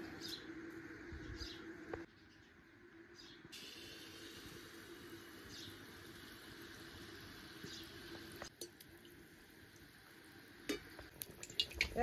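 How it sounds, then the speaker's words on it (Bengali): A spoonful of malpua batter hits hot oil and fries with a quiet, continuous bubbling sizzle. Faint clinks and scrapes sound now and then, and a few sharper crackles come near the end. "তেলটা গরম হয়ে গেছে, এবারে 1 চামচ ব্যাটার আমি দিয়ে দিচ্ছি"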